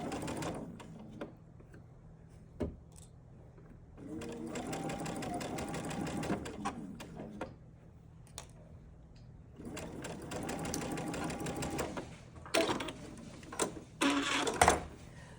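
Sewing machine stitching a small 4-inch quilt block, whirring in two sustained runs separated by pauses, with light handling clicks and rustles between bursts.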